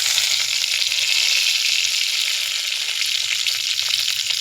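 Bay leaves, dried red chilies and sliced onion fry in hot oil for a Bengali lentil dal, giving a loud, steady, continuous sizzle with faint low stirring bumps underneath and no talking.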